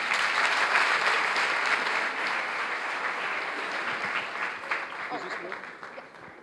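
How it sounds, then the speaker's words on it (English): Delegates at the opening ceremony of the Round Square African-European Conference give a round of applause, dense and fairly close clapping that stays strong at first, then slowly thins and fades out. "Please give him a round of applause."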